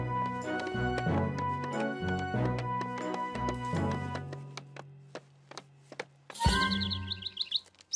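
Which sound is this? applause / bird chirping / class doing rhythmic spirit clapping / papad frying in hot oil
bird chirping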